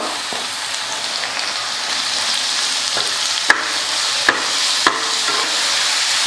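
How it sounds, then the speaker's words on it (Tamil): Onion and carrot fry in a hot pan with a continuous close sizzle, broken by a few sharp spatula taps against the pan as the vegetables are stirred. "எல்லாம் சேர்த்து 1 நிமிஷத்துக்கு வதக்கிக்கலாம்"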